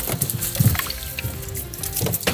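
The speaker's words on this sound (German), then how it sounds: "Ich schmeiß mal wieder ins Wasser rein." A fish about 600 grams tossed back into water, splashing with a couple of short bursts amid quieter trickling and dripping, close by.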